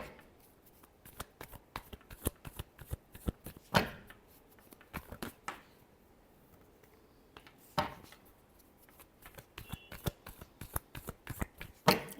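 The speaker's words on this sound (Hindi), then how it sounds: "Last shuffle." Tarot cards shuffle in repeated bursts of quick riffling and snapping, with sharp louder slaps at intervals; the handling is close and fairly quiet, with no talk over it.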